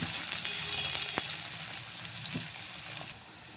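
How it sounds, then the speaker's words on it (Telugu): Chopped onions frying in hot oil in a pan for a drumstick and cashew curry, a steady close sizzle with occasional scrapes and clicks of stirring, no talking. "కట్ చేసుకుని ఉల్లిపాయ అయితే వేస్తున్నాను. లైట్ బ్రౌన్ వచ్చేదాకా కలుపుకోవాలి."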